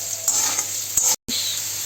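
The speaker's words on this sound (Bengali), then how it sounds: "এবার ওই আলু ভাজার তেলেতেই সয়াবিনগুলো, যেগুলো জল ঝরিয়ে রাখা ছিল, সেগুলো ভাজতে দিয়ে দেবো।" Drained soybean chunks dropped into hot oil left from frying potatoes, a bright crackling sizzle with a stirring scrape, a brief cut partway through, then the frying resumes.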